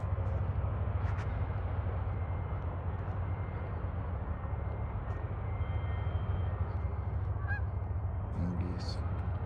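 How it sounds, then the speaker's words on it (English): Geese honk a few times from a distance on a lake at sunset, faint and brief over a steady low rumble of wind or a passing aircraft. "And geese."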